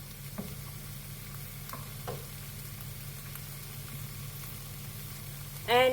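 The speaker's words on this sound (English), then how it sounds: "make sure it's sizzling" Onions and celery sizzle in a pot as they are stirred, making a soft, steady frying hiss with a few light scrapes and clicks throughout. A louder knock comes right at the end.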